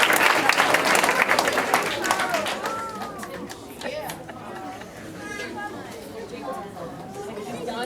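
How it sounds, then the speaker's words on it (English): Applause at a parish Vacation Bible School closing gathering, clapping loudest at the start and fading as children's chatter and voices take over. "Please, recognize them, applause,"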